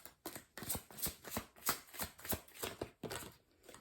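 Tarot cards are handled and drawn at close range, giving soft, rhythmic slaps and swishes, about ten quiet card snaps in a steady patter.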